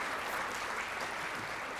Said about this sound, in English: Let's just give that a round of applause